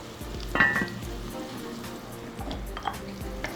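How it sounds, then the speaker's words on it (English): Vegetables saute in olive oil in a pan, giving a soft, steady sizzle with a few faint clinks of utensils, fairly quiet and close. "Let that saute till it gets nice and fragrant."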